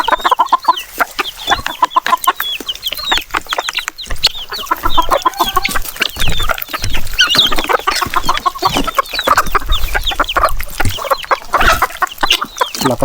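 Heritage chickens cluck and squawk busily and close by while being fed, with dense overlapping calls from the flock and occasional feed-scratching noise, with no talk over them.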